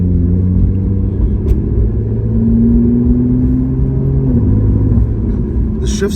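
A Lotus Evora 400 sports car drives along with a steady, close engine rumble; the tone climbs and then drops partway through, like a gear shift.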